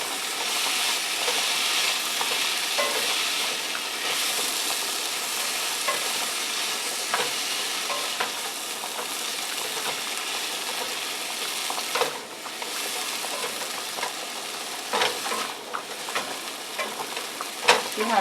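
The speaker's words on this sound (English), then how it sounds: "See how nicely that's stir frying?" Steady, bright sizzling of food stir-frying in a pan, with occasional stirring scrapes and hissing bursts throughout.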